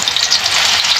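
Pieces of eggplant frying in hot oil in a pan, a loud, steady close sizzle crackling without pause.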